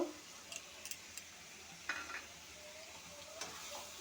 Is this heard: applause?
no